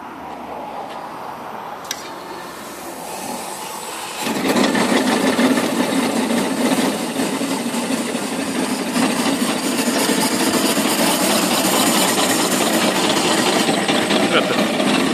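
A homemade steam donkey engine starts hauling in a log, shifting from a quieter rumble to a loud, steady, close mechanical roar and clatter that continues without a break.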